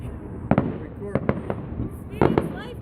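Fireworks over Union Lake, with several sharp bangs and crackling bursts at irregular intervals, fairly loud, while people chat nearby.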